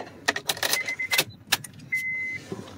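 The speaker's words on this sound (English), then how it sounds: "Put the key back in the ignition." A key jangles on its ring as it slides back into the ignition of a Honda Accord, several short metallic clinks followed by a faint chime tone.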